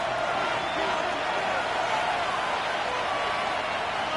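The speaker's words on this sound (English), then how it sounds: "The crowd making their presence felt." A stadium crowd roars steadily in an American football video game's Sunday night Houston versus London matchup, a dense, even wash of cheering that holds at a constant level throughout.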